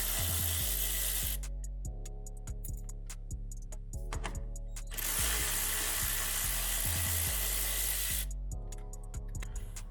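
A power screwdriver whines in repeated bursts, its motor pitch rising and stopping as screws back out of a BMW E9X M3 headlight, with high hissing noise between runs.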